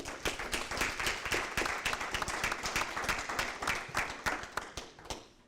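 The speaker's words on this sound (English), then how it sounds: "These people truly deserve a round of applause, and I just wanted to give it to them." Audience applauding at a school district board meeting, a steady round of clapping from a modest group lasting several seconds before tapering off.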